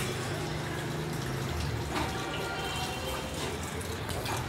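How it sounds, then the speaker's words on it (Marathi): Continuous splashing of water falling and trickling down a decorative waterfall at a Ganesh festival display, steady and close, with faint voices underneath. "बघा धबधबा, पाणी येतं वरनं"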